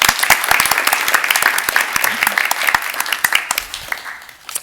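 An audience at a university research presentation competition gives a loud round of applause, dense clapping with sharp individual claps standing out near and far, fading slightly toward the end.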